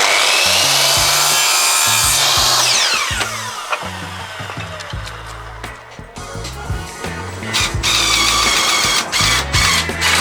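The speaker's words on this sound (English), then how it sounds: "once I'd finished screwing down the wooden battens, I then just gave it a quick sand" Wooden battens screwed down inside a Sprinter van conversion are given a quick hand sanding: close, rhythmic back-and-forth rasping strokes that pause briefly, then resume in quicker, scratchier passes.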